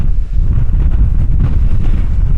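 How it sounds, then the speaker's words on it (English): Strong 40 mph+ gusts batter an MSR Tindheim 2 tent during a storm camp, a loud, constant buffeting roar of wind with rushes of stronger gusts, and no voices. "It's looking solid, really strong gusts"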